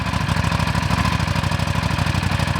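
A 2009 Buell 1125R motorcycle idles close by, its engine throbbing in a loud, fast, even pulse that holds steady throughout.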